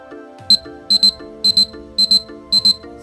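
A digital timer alarm beeps in sharp, loud paired pulses, about five double beeps repeating evenly over a low sustained background tone.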